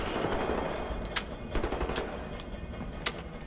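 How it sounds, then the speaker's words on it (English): Gunfire from a weapon in Wolfenstein: The New Order, a few scattered sharp shots over a noisy rumble, moderately faint with no talk. "I'm just gonna go ahead and see how wonderful this gun is"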